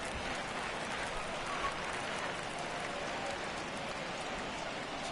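Rain falls at Yankee Stadium in a baseball video game, a dense, steady hiss of drops on surfaces that runs evenly throughout at moderate level.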